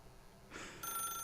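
Telephone in the video game The Stanley Parable starts ringing, a bright electronic trill with steady tones that begins abruptly and continues, fairly close and alone.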